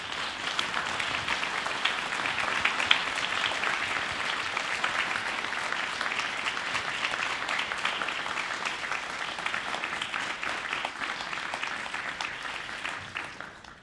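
An audience gives a sustained round of applause for veterans at a public event honoring a Tuskegee Airman, dense and even clapping from a large crowd that holds steady for over ten seconds before tapering off at the end.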